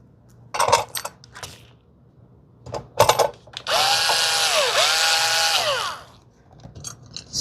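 A power drill whirs for about two seconds, pitch rising and dipping as it drives screws into a 52-inch Hampton Bay Nassau ceiling fan, preceded by a few sharp metallic clicks and taps of the screws and parts.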